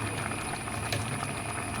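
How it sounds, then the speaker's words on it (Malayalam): A pot of fish curry bubbles steadily at a low rolling boil on a gas stove, a continuous soft hiss and gurgle with a faint high electrical whine throughout. "അങ്ങനെ മീൻ നന്നായിട്ട് തിളയ്ക്കുന്നുണ്ട്"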